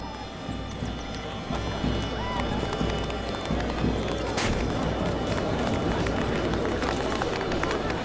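A huge crowd gathered at a circus in the video game Witcher 4, an Unreal Engine showcase, forms a dense, steady murmur of many voices with scattered footsteps and clatter that fills the scene from start to finish.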